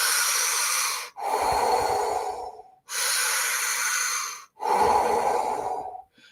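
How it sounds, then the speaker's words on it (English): Deep Wim Hof style breathwork: three long, loud, forceful breaths drawn in and blown out close to the listener, each lasting about a second and a half, separated by short gaps and heard alone. "We're going to start out with just some kind of Wim Hof style breathing. We're going to take 30 deep breaths about at this pace."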